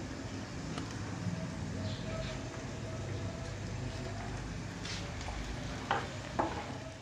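Onions sauté lightly for mutton keema, a close, even sizzle running throughout, with a few faint clicks of stirring near the end.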